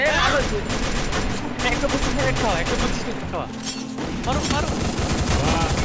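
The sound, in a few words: gunfire in a video game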